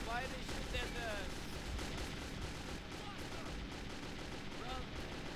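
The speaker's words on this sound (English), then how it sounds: "why they shoot at us?" Gunfire in the video game Metro fills the scene in a dense, continuous barrage of shots and explosions, loud and chaotic throughout, with faint voices mixed underneath.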